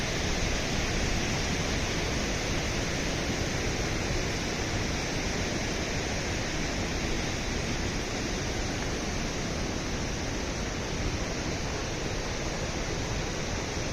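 Clear water rushes along a stream below Sajla waterfall in a constant, even roar. It is close and loud, with no break and no voices.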